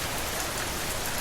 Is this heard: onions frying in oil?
no